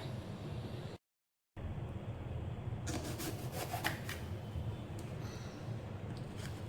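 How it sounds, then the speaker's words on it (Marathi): A knife cuts vegetables such as onion and capsicum on a board, giving quiet rubbing, sawing strokes, then a brief silent gap and a run of soft, close tapping chops. "चला तर आपण भाज्या कापून घेऊया"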